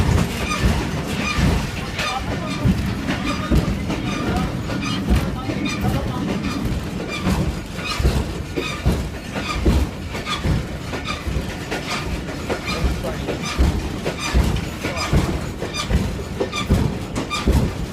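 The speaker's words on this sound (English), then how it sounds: "This is our train." A train passes through Jhelum railway station in Pakistan, a loud continuous rumble and rattle of wheels close by, with voices talking over it throughout.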